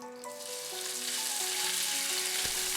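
Pork hitting hot oil in a pan over medium heat gives a bright, hissing sizzle that builds and holds steady through the short stretch, close up with a faint tonal hum beneath and no voices.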